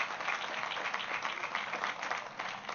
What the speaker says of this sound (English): Please give all our local elected officials a huge round of applause,